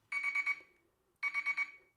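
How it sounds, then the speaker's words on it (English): A kitchen timer rings during a one-gallon home beer brew, two bursts of rapid electronic beeping separated by a brief pause, close and clear. "There's the timer."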